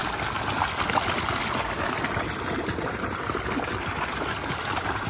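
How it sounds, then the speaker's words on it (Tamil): Fast-flowing water rushes steadily through an irrigation channel feeding a coconut grove, a constant close, dense watery hiss with no pauses. "தண்ணி பாருங்கள் மக்களே, தண்ணி எவ்வளோ வேகமாக போயிட்டு பாருங்கள்."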